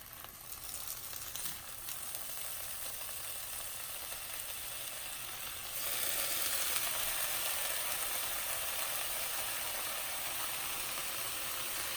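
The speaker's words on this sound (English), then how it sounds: "Here I'm cooking my bacon" Bacon frying in a pan, a steady broadband sizzle that grows louder and denser about halfway through, close and continuous with no talking.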